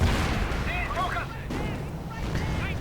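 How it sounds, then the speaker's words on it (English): Artillery and explosions roar on in a war strategy game, a dense, continuous rumble of blasts and booms filling the whole stretch under a commentator's voice. "Artillery going in right here, hoping to perhaps stop something, and my goodness, everything goes up in smoke and explosions"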